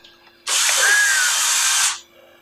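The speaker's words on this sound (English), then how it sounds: "Now, this here is your standard drill." A standard power drill runs for about one and a half seconds with a loud, close, steady whine that starts abruptly and then winds down, in a woodworking workshop.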